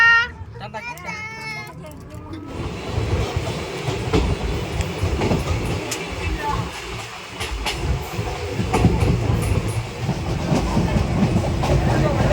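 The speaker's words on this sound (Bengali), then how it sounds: "ট্রেনে উঠে পড়েছি এখন নারায়ণপুর ছাড়লো" A train rumbles steadily along the rails with rhythmic clacking, heard from inside a carriage just after leaving Narayanpur station, with children's voices briefly at the start.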